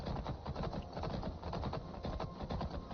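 Horse hooves in modded Skyrim clip-clop in a quick, steady rhythm, close and continuous, over a dense muffled background.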